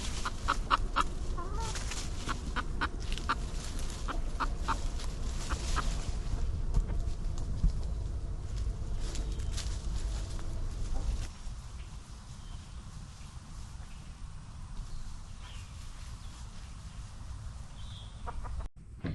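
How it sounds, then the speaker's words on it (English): Two roosters, a Silver Rudd and a little Millefleur, cluck in a barnyard. The clucks are soft and scattered over a steady outdoor background that turns quieter partway through. "so we have 2 roosters here"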